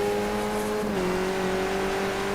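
A race car engine in a racing video game holds a steady high drone, dipping slightly in pitch partway through as if easing off, loud and continuous with no voices.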